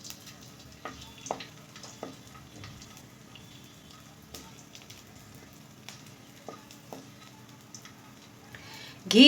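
A grain of edible gum sizzles in hot ghee, a soft, steady frying hiss with scattered small pops and crackles, heard alone and close.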